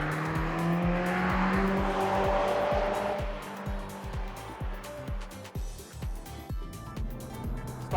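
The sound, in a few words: Subaru BRZ tS race car driving on track at Laguna Seca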